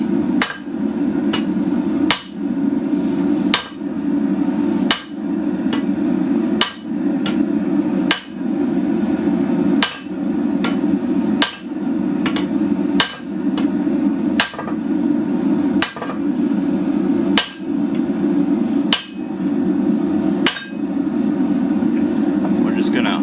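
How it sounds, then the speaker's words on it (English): A flattening hammer striking a heated copper billet while hand forging a copper go mai, delivering about fifteen sharp metallic blows at a regular, unhurried pace, close and loud over a constant low roar. "I'm going to use my flattening hammer, make sure everything is nice and flush and flat."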